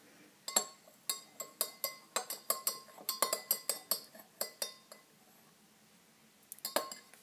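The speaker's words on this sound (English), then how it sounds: "And just stir that." A spoon stirs liquid in a glass, making a rapid run of about a dozen bright, ringing clinks over roughly four seconds, then a pause and two more clinks near the end.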